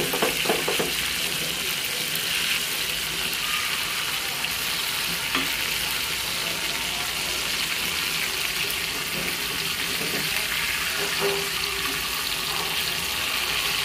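Fish fries crispy in a pan with curry leaves, a loud, continuous sizzle with scattered crackles and pops that carries on without letup.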